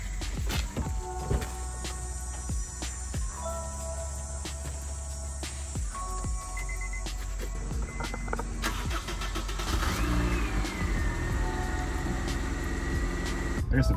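A manual Honda Civic drives off and picks up speed along a long strip, engine hum rising under interior clicks and rattles, with a whining pitch climbing toward the end.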